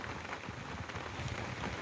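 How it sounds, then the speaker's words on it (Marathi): Heavy rain pours down at a harbour where large boats are moored, a dense, steady wash of noise that stays constant throughout. "पाऊस चिका पडत आहे"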